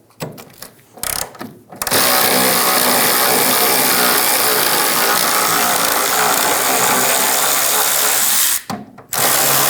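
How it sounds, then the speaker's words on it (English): A power tool with a 15mm socket spins out the control arm bolt on a 2000–2007 Ford Focus: a few short clanks, then a loud, continuous whirring run of about seven seconds, close by, cutting off with a brief pause and final burst. "Using a 15mm socket, remove the bolt for the control arm."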